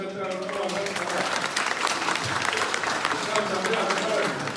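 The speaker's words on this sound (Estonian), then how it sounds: "Teeme neile aplausi" Crowd at a 2019 harvest festival applauding the Martad women's group, sustained many-handed clapping throughout, fairly close and even, with faint voices mixed in.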